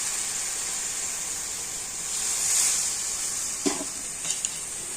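Water pours into semolina in a hot pan, giving a steady hiss and sizzle that swells briefly midway, then a couple of soft clinks near the end, close up with no voices.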